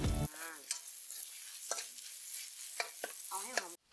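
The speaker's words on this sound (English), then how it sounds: "Stir fry it until the paste is fragrant" Chili paste sizzles and fries in hot oil in a pan while being stir-fried, a steady close hiss broken by several short scraping stirs of a utensil.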